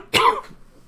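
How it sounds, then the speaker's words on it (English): A single short, sharp human cough, close and fairly loud, with a brief trailing rasp and no talking around it. "Pardon me for the cough."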